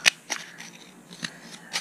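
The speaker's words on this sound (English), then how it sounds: "take our scissors and cut in here" Scissors snip through paper while shaping a paper plant pot at a craft workshop, giving a few separate short cuts spaced unevenly, close and fairly quiet, with no talking.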